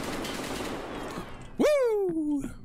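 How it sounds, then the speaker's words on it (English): RPK machine gun fire in the shooter game Escape from Tarkov: a dense, sustained burst of gunfire for over a second, then a voice lets out a loud falling exclamation over the fading shots. "It sounds like an RPK."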